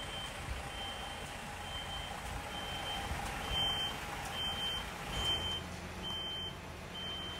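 A truck slowly reverses through a hall full of obstacles to couple with its semitrailer, its reversing alarm sounding a series of brief, regular beeps over a low engine rumble.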